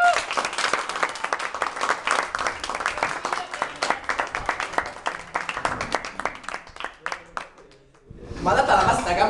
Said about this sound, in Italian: Con un grandissimo applauso